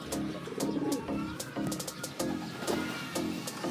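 Racing pigeons cooing at the loft, repeated low throaty coos close by, mixed with light rustles and small clicks.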